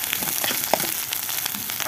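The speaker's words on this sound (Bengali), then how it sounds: "তার জন্য ভাত ভেজে এখন খাবো" Leftover cooked rice frying in a pan at home, a steady close sizzle with faint scraping stirs and a few brief clinks, no voices.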